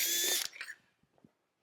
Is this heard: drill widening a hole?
yes